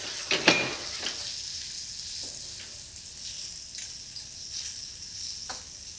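Button mushrooms and bacon sizzle steadily in a pot for a coq au vin garnish. The frying hiss is even and close, broken now and then by a soft stir or clink.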